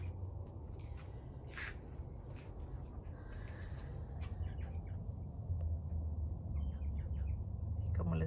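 Birds chirping in a flower garden, scattered sharp tweets and calls above a steady low outdoor rumble, with occasional squawks.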